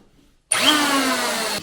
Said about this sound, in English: I'm just going to use a planer set to the maximum depth.